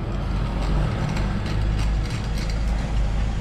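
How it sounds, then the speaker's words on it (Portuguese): A steady mechanical ratcheting whir from the starter cord being pulled on a CID 430 brush cutter with a damaged spark plug thread. It runs continuously over a constant low rumble, close up and with no voices. "Só precisa dar uma cordadinha nele aí."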